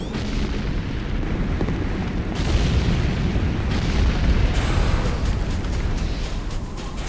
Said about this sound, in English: GDI weapons factory destroyed.